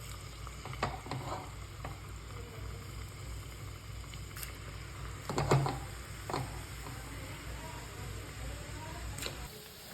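Batter dropped piece by piece into hot oil on a home stove, sizzling and crackling steadily with a few sharper bursts and clinks, close by and moderately loud.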